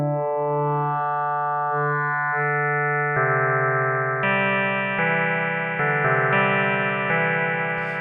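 Pure sine tones from an analog synthesizer's phase-modulation section holding steady pitches, shifting into brighter, buzzier timbres as the modulation changes, with sustained notes stepping between settings.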